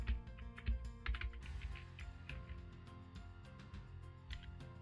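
Quick bursts of crisp keystrokes come from a computer keyboard as a search term is typed into the WordPress plugin search. The typing is close and clicky over a steady low background hum.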